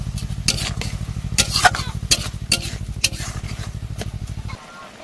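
Raw pineapple chutney with sugar stirred in a pan, loud close sizzling with rapid spatula scrapes, over a steady low rhythmic engine-like hum that cuts out near the end.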